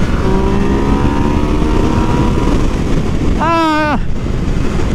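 A Yamaha MT-09 motorcycle engine drones steadily under heavy wind rush at riding speed, then a quick rising-falling rev blip marks the downshift to third gear.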